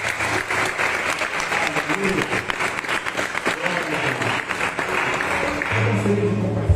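Church congregation claps steadily and densely for several seconds, a continuous wash of many hands filling the room, with some voices mixed in and a low sustained tone rising near the end.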